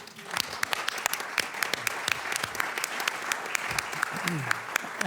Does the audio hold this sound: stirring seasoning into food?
no